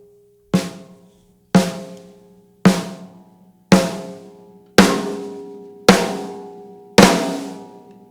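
Seven sharp snare drum hits from a Tama Bell Brass snare, evenly spaced about a second apart, each ringing with a bright metallic decay, heard alone and close.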